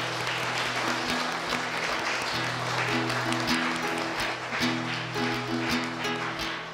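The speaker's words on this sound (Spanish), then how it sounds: "Un aplauso a Dios por esta misa." A congregation claps together in sustained, dense applause at the end of a Catholic Mass, while a steady musical tone holds underneath.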